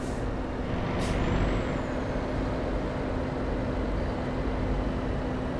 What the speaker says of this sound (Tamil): வண்டி சவுண்டு பார்த்தீங்களா? வண்டி சவுண்டு நல்லா இருக்கு.